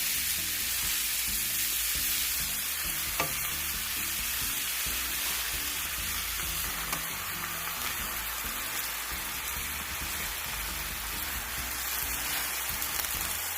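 Spinach frying in a hot pan with garlic and butter gives a steady, dense sizzle throughout, close and even in loudness, with a faint stir now and then and no speech.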